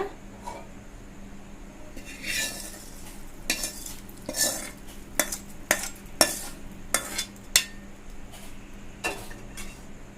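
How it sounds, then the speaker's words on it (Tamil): Tempering of mustard seeds and curry leaves poured into ginger chutney and stirred in with a spoon, giving a run of sharp metallic scrapes and clinks against the bowl over a faint sizzle, close and without talk. "இப்போ நம்ம இந்த சட்னியை தாளிச்சிடலாங்க."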